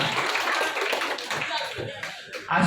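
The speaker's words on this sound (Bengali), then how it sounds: "একটা হাততালি দিব না?" Audience applause fills a freshers' welcome ceremony in Faridpur, a dense, steady patter of many hands clapping at fairly close range for nearly three seconds.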